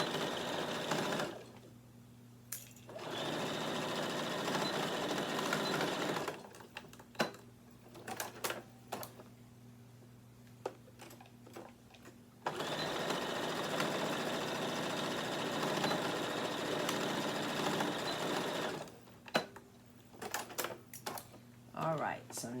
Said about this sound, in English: We have our handles sewed onto our bag.